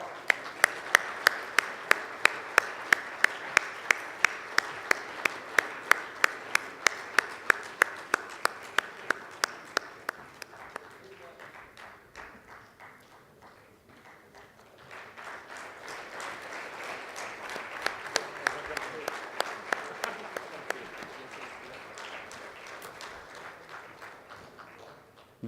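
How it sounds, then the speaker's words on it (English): Audience applause at an annual international conference, 2018: dense, steady clapping with sharp individual claps standing out, fading to a lull midway before a second strong wave of applause swells up and continues. "so the applause should not stop."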